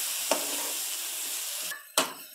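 Onions for samosa filling fry in a pan with a constant bright sizzle, broken by a couple of quick stirring knocks near the end.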